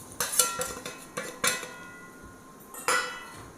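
A utensil stirs mango with chilli powder, salt and turmeric in a metal pot, giving close, sharp scraping clinks in an irregular rhythm, with a few louder knocks against the pot's sides.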